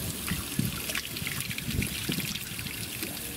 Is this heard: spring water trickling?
yes